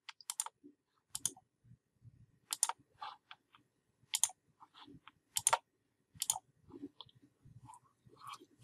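Soft computer keyboard clicks, a scattered series of light taps with quiet gaps between them, close and fairly faint with no talking.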